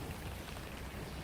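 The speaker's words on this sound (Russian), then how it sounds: "дождь усиливается" Steady, fairly faint rain makes a continuous hiss of drops in a brief burst, with no voices.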